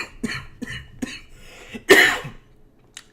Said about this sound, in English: I've had this damn cough for like a whole month.